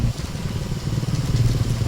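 A motorcycle engine runs steadily nearby with a low, rough, continuous rumble and light mechanical clatter, and no voices.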